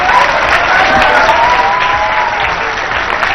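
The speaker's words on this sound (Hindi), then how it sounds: "खिलाड़ी भाई तालियां बजाओ" Audience clapping in a studio cricket discussion show, a loud, dense burst of many hands with some cheering voices layered over it, sustained through the short stretch.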